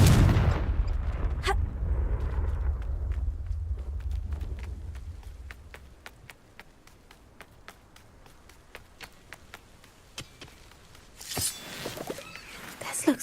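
A Confringo spell blast in Hogwarts Legacy, the fantasy video game, goes off with a loud booming burst and a deep rumble that fades over several seconds, followed by sharp crackling flickers and a later bright whooshing flare.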